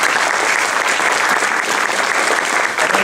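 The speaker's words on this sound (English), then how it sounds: "I give them a round of applause." An audience at a solar farming workshop claps for a panel, dense sustained applause that fills the space evenly from start to finish, loud and close.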